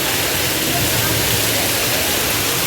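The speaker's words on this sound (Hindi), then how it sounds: "बहुत ज़्यादा पानी भर गया लिंटर पर" During a heavy downpour, rainwater pours off a large concrete roof slab of a big building in a loud, continuous rushing hiss with no break.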